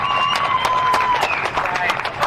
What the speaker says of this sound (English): how about a nice round of applause for the top 3 in the air-cooled